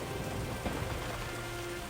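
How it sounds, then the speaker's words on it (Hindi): Heavy rain in a Hindi moral story, a steady dense downpour of drops on surfaces with a faint low rumble beneath, continuous and fairly loud for the whole stretch, no voices. "तभी एक दिन अचानक आसमान फट पड़ता है, तेज बारिश होती है"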